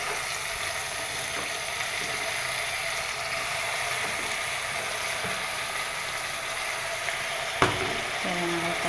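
Tomatoes fry and get mixed in a pan, giving a steady, even sizzle throughout, with a single sharp scrape or knock near the end.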